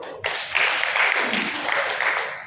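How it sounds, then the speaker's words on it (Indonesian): Seminar audience bursts into applause, a sustained wash of many hands clapping at moderate loudness that swells quickly and holds before fading. "Tepuk tangan dulu."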